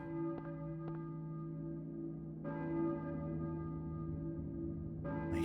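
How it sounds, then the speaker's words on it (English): A deep church bell in the video game Silent Hill tolls with long ringing overtones, struck again a few times, each strike sustaining over a low steady hum. "And now we have this church bell going."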